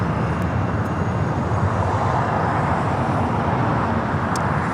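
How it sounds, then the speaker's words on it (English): A China Southern airliner takes off at Los Angeles International, its engines a loud, steady broadband roar that holds unbroken from start to finish with no voices over it. "Look at that, China Southern is the one that just took off"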